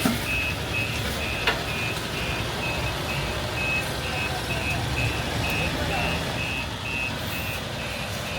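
Steady intermittent reversing beeps from a goods truck backing up to unload nursery plants in Chennai, a clear regular beep pattern repeating over constant engine and street noise throughout.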